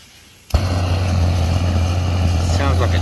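A rocket stove suddenly lights into a loud, steady roar like a jet engine, with a deep low rumble that holds close and constant after a brief quiet start.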